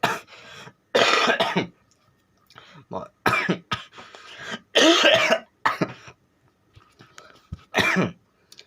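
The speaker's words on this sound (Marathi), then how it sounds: "खोकला अजून काही गेले नाही" Someone coughs repeatedly in harsh, close bursts separated by short pauses, a few throat-clearing sounds mixed in, with no talking.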